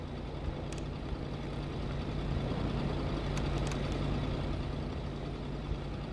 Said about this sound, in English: I keep hearing that motor, but it's my truck and not the generator.